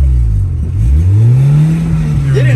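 Honda Civic engine revving while driving, just after a front-end rebuild, its loud low drone climbing steadily in pitch through an upshift and staying close and continuous.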